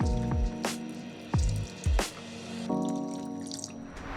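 Water or fish stock poured into a green sauce in a pan, giving soft splashes and a few sizzling bursts followed by quiet bubbling, close and without talk.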